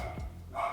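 A dog gives a single short, fairly faint bark indoors, heard alone against a low background hum.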